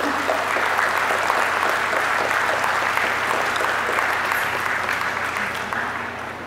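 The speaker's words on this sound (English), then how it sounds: "We'll give you a round of applause." Sustained applause from a large audience at the 75th College of Micronesia-FSM college commencement, as graduates' parents and families stand to be recognized: dense, steady clapping that fills the hall and holds loud throughout, easing slightly toward the end.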